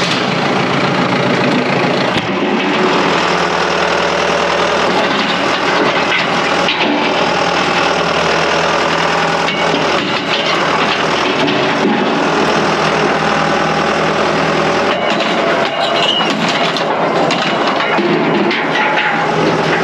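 A rock-picking machine's engine runs loudly and steadily nearby, a constant heavy rumble that holds for the whole stretch with no talk over it.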